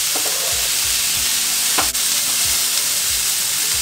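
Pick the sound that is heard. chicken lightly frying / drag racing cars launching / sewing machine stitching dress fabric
chicken lightly frying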